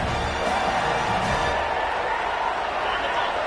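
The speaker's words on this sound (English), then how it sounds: "This crowd busting the decibel meter and trying to will a 4th down stop." A stadium crowd in the College Football 25 video game roars steadily during a 4th down play, a dense, constant wash of noise under a game commentator's voice.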